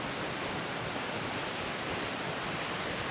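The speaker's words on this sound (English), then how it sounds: "I feel like I can hear a waterfall" A loud waterfall in a forest roars as a steady, dense wash of broadband rushing noise with no breaks, close and constant, with no voices over it.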